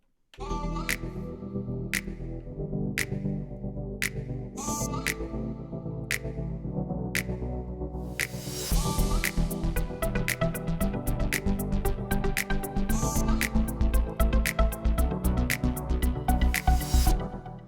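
A song intro: a sustained synth pad opens with steady rhythmic hits, then swells into a fuller, busier beat with a subtle whooshing reverse ride cymbal rising in the background.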